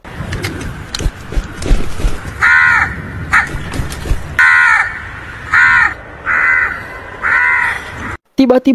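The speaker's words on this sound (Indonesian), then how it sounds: "ada seekor gagak yang hinggap di punggung Bali" Crows caw in a dramatic film scene, several harsh calls repeating at intervals over a rumbling, busy soundtrack, with a voice briefly audible and a sharp cut near the end.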